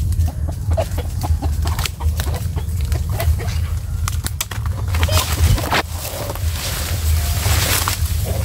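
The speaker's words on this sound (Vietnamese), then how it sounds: "Ôi gà, mấy con gà." Chickens cluck intermittently in a rainy rural Vietnamese setting, mixed into a constant wash of rain and background noise.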